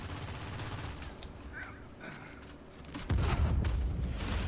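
Grenade launcher explosions in an Uncharted 4 multiplayer match, with muffled gunfire and scattered small blasts followed by a sudden, heavier booming rumble near the end, sounding close and loud.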